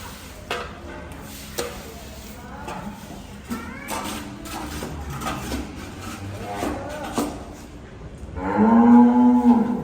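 Several cows moo in a cowshed, scattered calls over a steady background din, ending with a loud, close, drawn-out moo.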